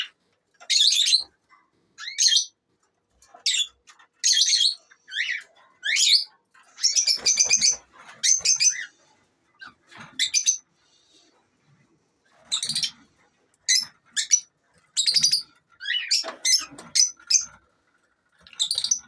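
Repeated bursts of high, chattering budgerigar chirps, close by, in irregular clusters separated by short silences.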